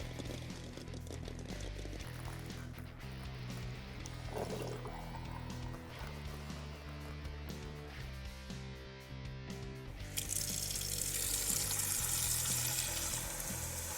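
Boiled eggs are drained of their hot water at a kitchen sink, with sloshing and pouring over running water, ending in a brighter, harder gush near the end.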